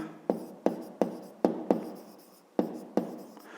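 Numbers are handwritten for a fifth-grade maths exercise, with about eight sharp pen strokes tapping in an uneven rhythm, close and clear with no talk.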